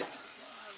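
Stir-fry sizzling in a pan as it is stirred around, a steady close hiss that holds evenly through the short moment.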